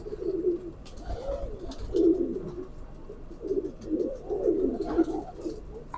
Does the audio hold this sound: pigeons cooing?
yes